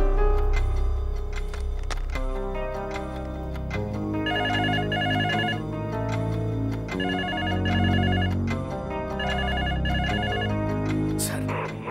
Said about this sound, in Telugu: సార్, ఇంట్లో ఫోన్ రింగ్ అవుతుంది సార్